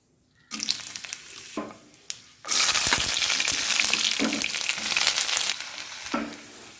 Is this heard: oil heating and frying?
yes